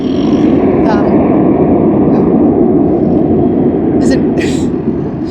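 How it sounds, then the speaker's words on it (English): An airplane takes off nearby, a loud continuous roar that holds steady for the whole stretch, with a few brief faint higher sounds over it. "There's an airplane taking off right over there."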